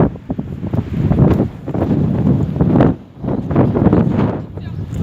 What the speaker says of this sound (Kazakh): Дала жел болып тұр енді.